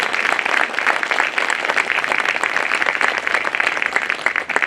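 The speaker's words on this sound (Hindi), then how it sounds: "अपने लिए ताली बजाओ" A hall full of newly enrolled lawyers at a Bar Council of Delhi meeting claps for themselves, producing dense, steady applause that stays even and continuous for the whole stretch.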